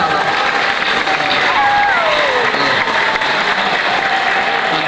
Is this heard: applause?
yes